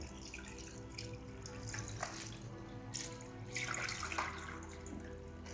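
Water runs from a tap into a frog terrarium, a faint steady splashing and trickling with slight surges, nearby and alone without talk.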